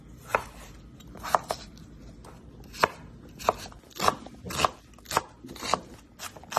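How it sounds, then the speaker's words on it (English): A knife chops onions on a cutting board in about a dozen distinct crisp strokes, at an uneven, fairly quick pace, close and clear against a quiet kitchen background. "Chop the onions very small."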